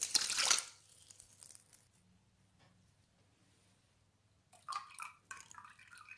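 Demineralized water poured into a container of table salt to make a saline solution: a brief splashing rush at the start, then quiet, then a few faint liquid sloshes near the end.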